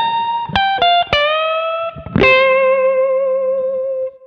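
Slowed-down blues lick on electric guitar, a few plucked notes with bends, then one long sustained note ringing out clean and alone.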